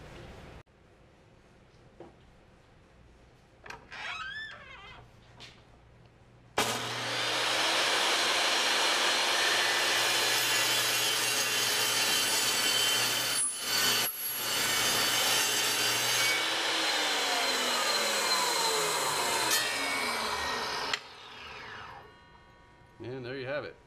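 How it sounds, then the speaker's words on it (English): A workshop saw cuts through a part, loud and close, with a steady harsh grinding roar that holds for about fifteen seconds before stopping. Quieter handling and shuffling noises come before it. "so we go ahead and cut, which is really loud, folks, and it's going to shake the heck out of things"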